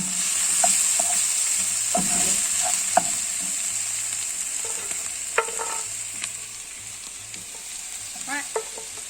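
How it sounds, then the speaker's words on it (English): Alfredo sauce ingredients sizzle softly in a pan while being stirred, with scattered utensil clicks and scrapes over a steady, moderate frying hiss. "we're going to mix that in there so long"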